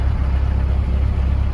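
A Mahindra Roxor engine idles in cold weather while warming up, giving a close, loud, steady low rumble with an even throbbing pulse and no talk.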